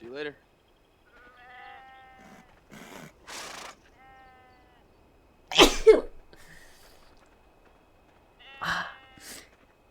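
A few sharp, sudden sneezes burst out between scattered vocal sounds and quiet pauses. One sneeze is especially loud and close.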